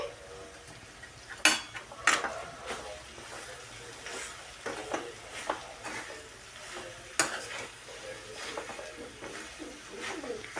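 Homemade noodles being stir-fried in a pan, a low sizzle broken by repeated scraping and clanking of a spatula against the pan in an irregular rhythm, close and fairly quiet.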